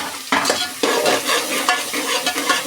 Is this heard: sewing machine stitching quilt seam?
no